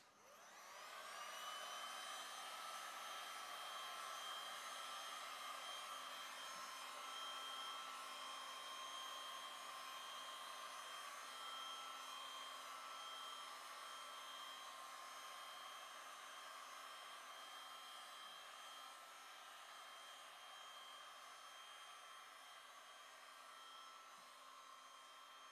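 A dryer runs continuously while drying fluid art on deli paper, a steady, unbroken blowing hum that barely changes from start to finish.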